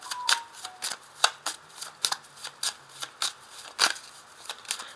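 A deck of 32 playing cards being shuffled and handled, giving a quick series of crisp riffling snaps and soft slaps in an uneven rhythm, close and clear, with no talk over them.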